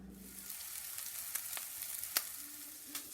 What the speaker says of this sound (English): now that my pan is warm, I'm going to go ahead and add my sausage balls